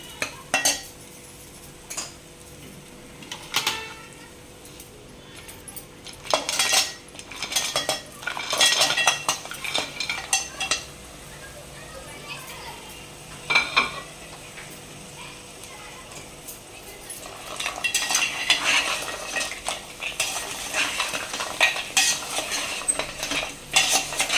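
Freshwater crabs stirred into roasted coconut in a pot for an Agri-style crab curry, with repeated metallic clanks and scraping of a spoon against the pot over a soft sizzle and brief quiet gaps.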